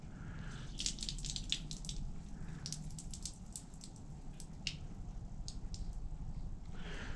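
Water drains quietly from a shower hose in a Sprinter van conversion, with soft trickling and scattered drips and splashes that continue throughout.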